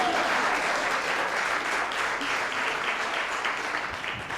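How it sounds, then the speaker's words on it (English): A crowd at a community cinema pre-screening bursts into steady, dense clapping, many hands together at an even level for a few seconds. "Let's clap."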